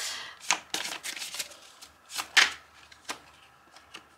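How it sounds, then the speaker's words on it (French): Oracle cards are drawn and shuffled from a deck, close-up papery flicks and riffles in quick clusters, with quieter gaps between bursts and no voice over them. "je voulais tirer ces cartes là"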